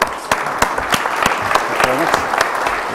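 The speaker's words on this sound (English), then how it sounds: "Round of applause, please." Audience applause in a conference session hall as guest speakers come up on stage, with dense clapping and a few sharp distinct claps standing out, and a brief voice heard over it.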